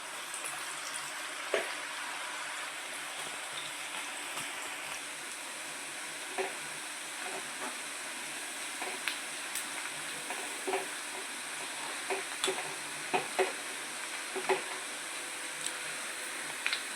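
Onion pakoda frying in hot oil, a continuous bright hissing sizzle with occasional pops and soft stirring clicks, steady and moderately close throughout.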